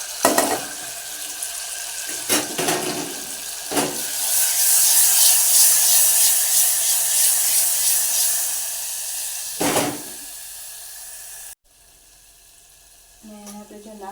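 Water pours into a hot pan of stuffed eggplant masala (bharela ringan) and sets off a loud, steady hissing sizzle with scraping sounds around it. Someone talks at times over the cooking.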